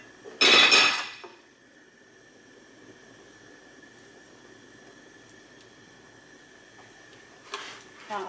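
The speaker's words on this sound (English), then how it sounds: "And I will place these rings into the pan." Metal rings set into a cooking pan, one loud clattering clank near the start, then a long quiet stretch of faint kitchen hum before a softer clink at the end.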